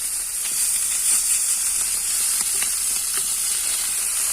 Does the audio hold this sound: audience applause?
no